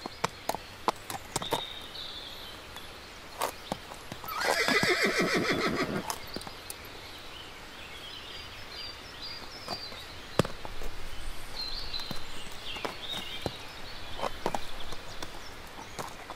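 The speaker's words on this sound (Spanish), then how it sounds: "el infante don Sebastián atravesó a caballo el campo de batalla" A horse crossing a battlefield whinnies loudly mid-clip, with scattered hoof clip-clops and footsteps before and after, the neigh standing out clearly against a quiet outdoor background.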